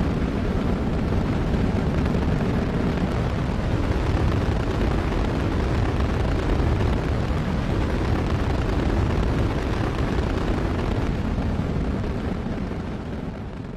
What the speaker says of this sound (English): We have a liftoff.